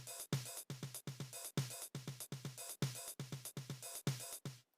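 A programmed drum loop cycles steadily, with tight closed hi-hats and an open hi-hat over an accented snare and two softer ghosted snares, repeating in a regular groove about ten times, dry and close.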